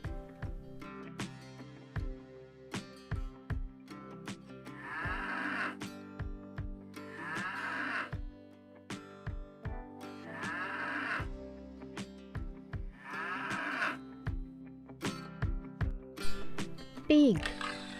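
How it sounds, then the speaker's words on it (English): Domestic buffalo on a farm lowing in repeated calls, each moo fairly close and loud, set against a steady rhythmic music bed with regular percussive beats throughout. "Buffalo, B-U-F-F-A-L-O, buffalo."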